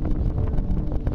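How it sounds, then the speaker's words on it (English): Wind buffets the microphone in a loud, low, gusty rumble, brief and unsteady, with no voices. "it's windy out here."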